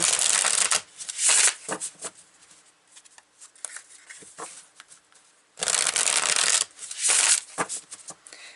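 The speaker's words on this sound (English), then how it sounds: "Let's see if I can pull some tarot cards for this." Tarot cards being shuffled in loud, riffling bursts that alternate with quieter stretches of soft card handling, close up with no talking.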